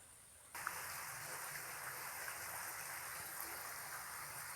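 Underground stream flowing at the entrance of a limestone cave, a steady, broad wash of running water that swells in just after the start and holds constant to the end, with no voices.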